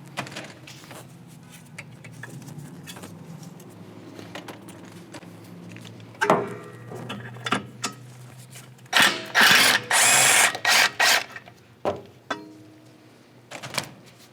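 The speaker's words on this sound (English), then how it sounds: "zap the nut off with an 18mm impact" An 18mm impact wrench zips a nut off a toe arm bolt on a 2022 BRZ/86, with loud hammering bursts and ratcheting rattles among scattered tool clanks and handling noise.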